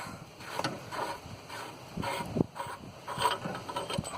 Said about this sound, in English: And then we have to unscrew this little cap.